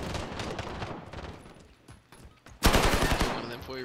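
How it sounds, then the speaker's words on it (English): Rapid automatic gunfire in Call of Duty: Warzone, a continuous rattling burst that softens midway, then a sudden loud close volley near the end. "Oh, I'm getting shot at heaps."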